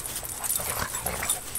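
Two dogs whimper and let out thin, high yips, close and fairly soft over a hissy background, in a short burst of overlapping whines.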